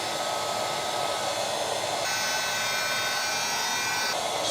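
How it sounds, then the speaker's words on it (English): A heat gun set to about 250, used for caulking a kitchen sink, blows hot air with a steady, loud whooshing roar that shifts slightly in tone partway through. There is no speech. "this tool right here, all right? The heat gun."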